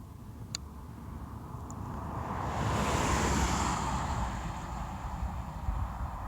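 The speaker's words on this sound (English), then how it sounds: "Kind of windy." Wind blows over rock bluffs at Rome, Oregon, a steady, loud rushing roar that swells in the middle and stays strong, with a couple of faint clicks early on.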